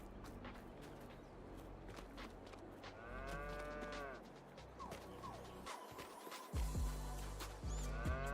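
Cattle moo in Farming Simulator 22 on a Missouri farm, several low drawn-out calls from more than one cow, moderately close, over soft ambient farm noise and occasional thuds.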